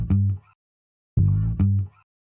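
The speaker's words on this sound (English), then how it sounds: "little cool bass note that I picked out from Splice actually and put it in here" Two short, deep bass note hits from a Splice sample played in Ableton Live, loud and punchy with a quick decay, separated by a short silence, then a second pair in quick succession.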